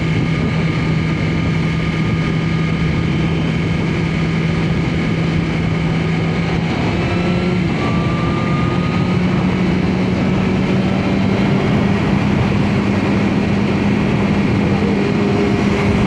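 A Kawasaki ZX-4 motorcycle exhaust heard from a moving S1000RR in traffic: a continuous, loud engine drone with a steady hum, wrapped in rushing wind noise, with no talking.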